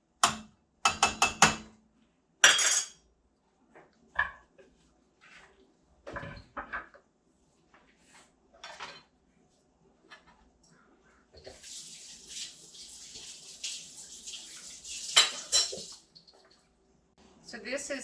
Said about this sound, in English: And then I'm going to drain off the whey.